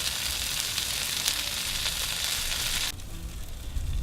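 Burger patties sizzle steadily on a ballistic griddle set on a Weber grill, a loud, dense hiss that drops off sharply near the end to a quieter crackle.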